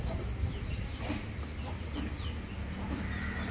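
Free-range desi hens cluck and murmur at close range while being fed chopped vegetables and fruit from the market, a continuous low chatter of the flock with scattered sharper calls and no talking.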